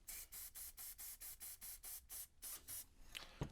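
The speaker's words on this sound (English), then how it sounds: "So I'm gonna spray this with the adhesive." Adhesive sprayed from an aerosol can onto model railroad scenery, heard as about eleven short, even hissing bursts in steady rhythm, close and fairly quiet, ending with a small knock.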